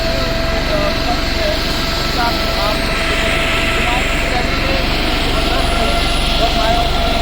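A helicopter's steady engine drone hums over a large noisy outdoor crowd at an election rally, with voices chattering throughout.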